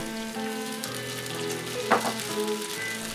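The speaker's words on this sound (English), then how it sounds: "When the oil is hot, add the ginger and the garlic" Ginger and garlic hit hot oil in a pan with a steady, close sizzle and crackle that swells briefly partway through, with no voices.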